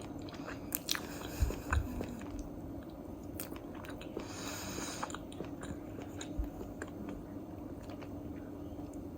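Close, quiet bites and chewing of small buttermilk pancakes, soft squishy mouth sounds with a couple of firmer bites early on, no talking.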